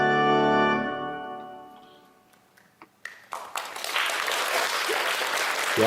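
Music fades out, a few scattered claps start, then a crowd breaks into sustained applause that grows fuller and continues to the end.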